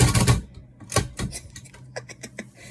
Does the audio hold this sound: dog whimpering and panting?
no